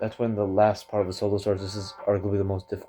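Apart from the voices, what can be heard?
None of the usual background noises is heard.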